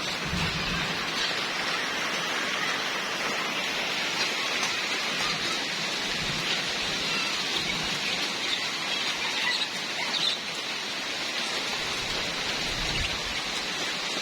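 Steady rain falls outdoors on a rainy Saturday near a birds' enclosure, a continuous broadband hiss that stays even and moderately loud throughout with no voices.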